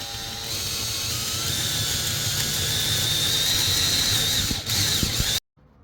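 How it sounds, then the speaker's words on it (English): A power drill bores steadily into a skull prop, a loud continuous whirring grind with slight pitch shifts that cuts off abruptly near the end. "If your drill bit isn't long enough,"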